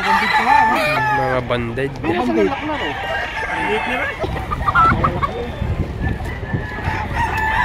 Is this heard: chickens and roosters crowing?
yes